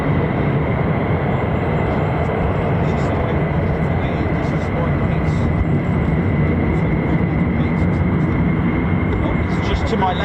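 F-35 fighter jets at RAF Lakenheath, home of the 48th Fighter Wing, produce a loud, steady broadband jet roar that fills the whole stretch, with faint scattered higher noises on top.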